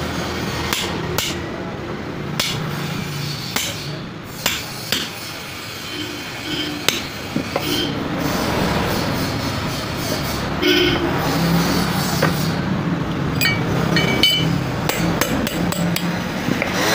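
Hammer blows punching holes into a slab of rubber cut from a payloader tire, a steady series of sharp, close, loud strikes with a few pauses and faint background noise, no talking.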